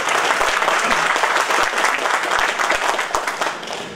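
Audience applause at a patriotic veterans' event in Odisha, India: dense, steady clapping from a large crowd filling the hall, loud and sustained, fading slightly at the end.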